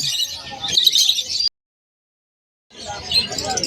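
Bright, high chirps and tweets of caged birds at the Malabon pet market twitter in bursts, with a short silent gap before the chirping resumes.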